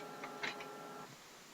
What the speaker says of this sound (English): it prints out a nice receipt at the printer